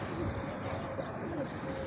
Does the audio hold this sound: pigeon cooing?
yes